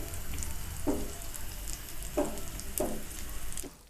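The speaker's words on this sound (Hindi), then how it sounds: "इसको हम दोबारा पलट लेंगे और अच्छी तरह से पकाएंगे" A flipped egg paratha fries on a pan with a steady close sizzle, broken by a few soft taps and scrapes of a spatula.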